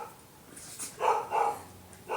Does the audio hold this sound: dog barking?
yes